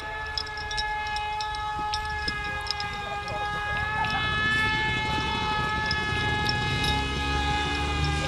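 Siren wailing at a volunteer fire brigade competition outdoors, a sustained tonal wail with rising and falling pitch over a busy background of machinery rumble and crowd noise.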